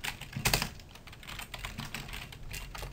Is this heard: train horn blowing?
no